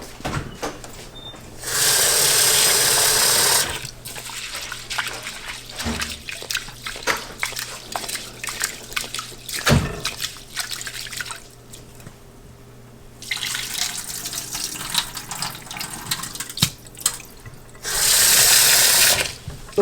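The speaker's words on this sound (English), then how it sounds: "we're going to wash this until the water comes clear." Rice being washed for jollof rice under a running tap: loud bursts of gushing water at the start and end, with quieter sloshing, swirling and clinking of grains in a bowl between.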